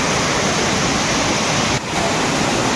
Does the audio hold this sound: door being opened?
no